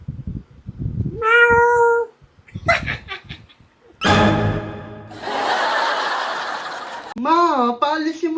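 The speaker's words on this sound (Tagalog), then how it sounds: "pusa lang pala." A cat meows several times indoors in a Filipino family home, the calls loud and close with rising and falling pitch, broken up by people talking and laughing around it.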